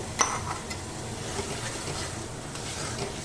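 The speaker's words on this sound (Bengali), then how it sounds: "এবার আমি চিংড়ি মাছটা এই কষানো মশলার মধ্যে দিয়ে দেব আর খুব ভালো করে এটাকে কষিয়ে নেব" Prawns stir-fried in cooked spice paste, a low steady sizzle with a sharp metallic clink near the start and soft scraping of a spatula through the pan.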